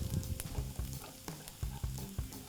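Mixed vegetables frying in butter in a pan for fried rice, a steady crackling sizzle with stirring scrapes and soft knocks, no talking.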